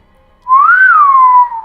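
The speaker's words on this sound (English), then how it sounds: "King whistles." A single clear whistle, rising then gently falling in pitch, carries on for about a second, loud and up close with no talk around it.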